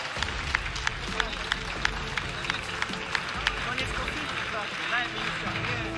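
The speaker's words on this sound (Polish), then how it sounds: "Wielkie brawa, drodzy Państwo!" A crowd at a fight event applauds after the verdict, with scattered sharp claps over a noisy arena background and a commentator's voice talking throughout.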